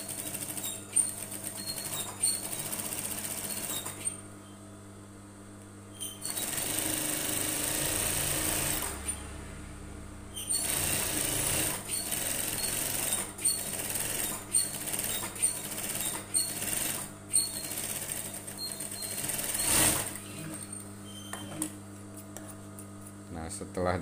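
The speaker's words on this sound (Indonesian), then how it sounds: "kita langsung jahit seperti ini." Sewing machine stitching a semi-folded collar on a women's Korpri uniform shirt, quick mechanical runs that stop and restart several times, close up, with someone talking between bursts.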